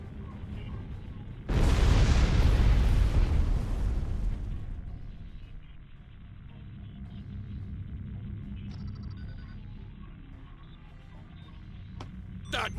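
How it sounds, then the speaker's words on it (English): A loud, sustained explosion booms in the Star Trek Online video game, a broad roaring blast that starts abruptly, rumbles for a few seconds and then fades into lower ambient game noise with a faint sharp pop near the end. "That was a glorious explosion!"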